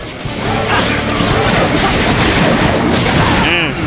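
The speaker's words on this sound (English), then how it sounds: "Those explosions are pretty" Dense, continuous rumbling blasts and crashes fill the clip, loud and layered explosions from the video game ARMS at a tournament, with excited voices partly mixed in.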